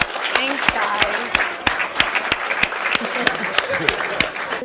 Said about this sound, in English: Let's clap it up for her